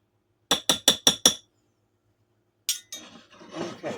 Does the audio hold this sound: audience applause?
no